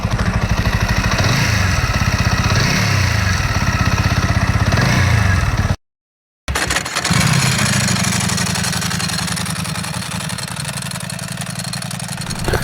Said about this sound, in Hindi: आपको मैं एक साइड अपाचे के इंजन की साउंड सुनाता हूँ और एक साइड सुनाता हूँ डुगाटी V4 इंजन की साउंड।